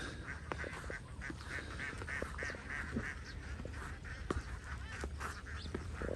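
Ducks being herded on foot to a new spot quack constantly in a dense, busy chorus, many birds close together under noisy outdoor background.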